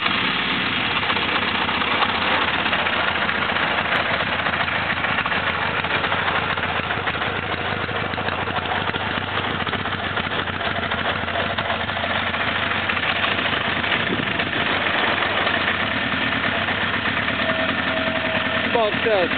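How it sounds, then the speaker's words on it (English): A 1982 Honda CB900F motorcycle engine idling after a cold start in freezing weather, a steady close, loud mechanical drone with a slight uneven pulse throughout. "This is the video of the 82 Honda CB900F"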